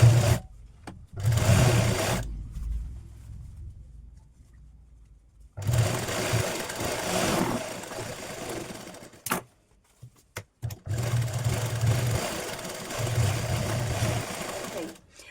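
A sewing machine stitches a katori blouse belt in bursts of rapid mechanical whirring, close and loud, broken by pauses of near silence and a few short clicks.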